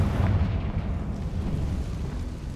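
A Confringo blast spell in Hogwarts Legacy erupts as a loud, deep booming explosion with a rolling rumble that carries on throughout, close and heavy.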